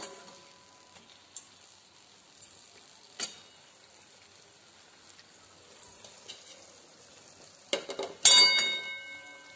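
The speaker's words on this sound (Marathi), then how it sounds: "तर राहिलेले हे 2 मी तळत आहे" Donuts frying in oil over a low flame make a faint, quiet sizzle broken by scattered soft pops, with a sharper clink and a louder burst of bubbling near the end.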